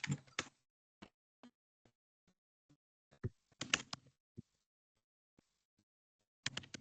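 Someone types a question on a computer keyboard during an online aviation discussion, with sparse irregular clicks and short bursts of keystrokes separated by silence, faint and close.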